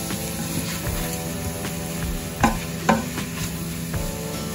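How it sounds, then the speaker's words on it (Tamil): Onions sautéing in butter for butter chicken, a steady close sizzle with a few sharp spoon scrapes and stirs against the pan, no talking. "நல்லா சாட்டே பண்ணிடலாம்."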